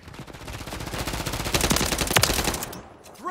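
Rapid automatic gunfire rattles in sustained bursts during a Call of Duty match on the Favela map, loud and close, with a few sharper single shots near the end and no talking.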